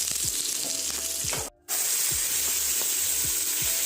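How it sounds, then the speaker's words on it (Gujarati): Asafoetida, green chillies and curry leaves sizzle steadily in hot oil after mustard seeds, a loud continuous frying hiss with small crackles and pops, broken by one brief moment of silence. "હવે આપણે તેમાં હિંગ લીલા મરચાં અને સાથે લીમડાના પાન"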